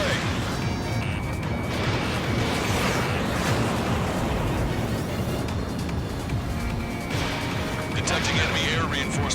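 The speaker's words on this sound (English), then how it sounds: "Missile away." An F-15S/MTD fires missiles and they explode in an Ace Combat 7 air combat mission. The roaring jet noise is dense and continuous, with heavy blasts and crashes layered over it throughout.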